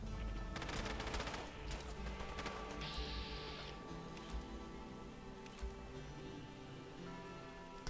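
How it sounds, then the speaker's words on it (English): Gunfire in the video game Fallout London, a dense burst of rapid shots early on followed by scattered sharper reports under a steady background hum. "They're shooting syndicates."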